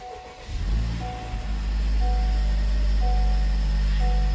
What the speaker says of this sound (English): Now we're gonna turn on the car and let it run for about 5 to 10 seconds